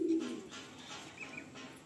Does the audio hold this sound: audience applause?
no